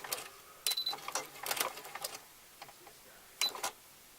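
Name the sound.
sewing machine sewing a top stitch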